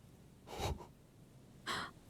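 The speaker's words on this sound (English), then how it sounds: "Your breathing is heavy." Two heavy, nervous breaths, a sharp gasping inhale and then a second one a second later, close and clear over quiet background, from the detective game Disco Elysium.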